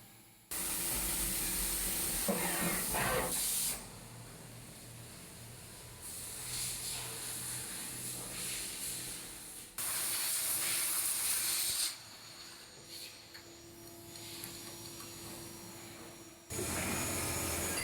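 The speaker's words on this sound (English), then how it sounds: "On another machine, we do the milling of the second side of the product" A CNC machine mills aluminium mounting brackets, spraying coolant in loud hissing bursts that start and stop abruptly between quieter stretches of steady machine hum and a faint tonal whine.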